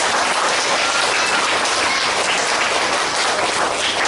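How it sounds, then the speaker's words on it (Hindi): Dense, loud applause from an audience at an International Yoga Day gathering at a Brahma Kumaris hall, an even roar of clapping that runs unbroken throughout. "एक बार जोरदार उनके लिए तालियां बजाएं।"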